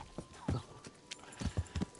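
Horse hooves clip-clopping in the Kingdom Come Deliverance video game, a few close, uneven hoofbeats on a hard surface with faint background ambience.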